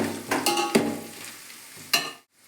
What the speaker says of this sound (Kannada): ಈರುಳ್ಳಿನ ಚೆನ್ನಾಗೆ ಈ ಥರ ಫ್ರೈ ಮಾಡ್ಕೊಳ್ರಿ.